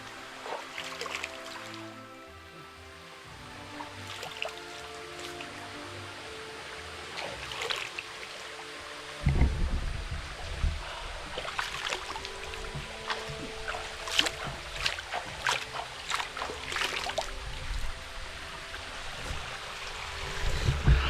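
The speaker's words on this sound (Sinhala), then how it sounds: "මේ තියෙන්නේ ඒ දිය දහරාවන් කැලේ මැද්දෙන් ඇවිල්ලා ටික" Forest stream water flowing steadily over rocks, a continuous broadband rush that grows louder and fuller partway through, with scattered splashes and trickles close by and no talking.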